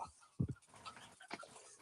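A dog pants softly with a brief louder whimper or yip burst near the middle, close by and fairly quiet, with faint breathy sounds throughout.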